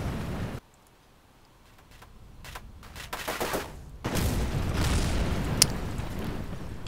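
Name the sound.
explosion in a video game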